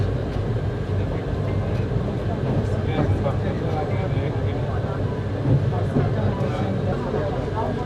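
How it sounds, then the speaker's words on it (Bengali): Steady rumble and rattle of the Mahanagar Godhuli Express pulling out of Feni station, heard from inside the carriage as a continuous loud rolling noise with faint clacks and no break. "ফেনি থেকে আমাদের ট্রেন ছাড়লো চারটা পঁয়ত্রিশ মিনিটে আমরা ফেনি স্টেশন থেকে এখন বের হয়ে যাচ্ছি"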